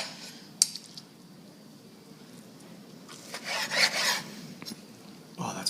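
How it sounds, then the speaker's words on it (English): A knife saws through a grilled medium-rare steak for a Boston cheesesteak, giving soft rasping, scraping strokes with a louder burst of cutting in the middle and a brief clink of utensils near the end. "Always cut the steak with the grain."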